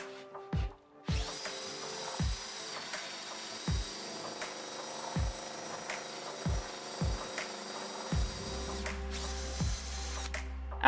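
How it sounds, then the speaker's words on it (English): A power drill whirs steadily, drilling holes in oak for a chair, interrupted by several short knocks and bumps, then a brief change in pitch near the end. "After drilling the holes"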